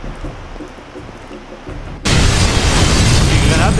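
A grenade detonates in the Far Cry 2 video game, cutting a quiet ambient stretch with a sudden loud blast that rolls on as a dense, sustained roar and rumble.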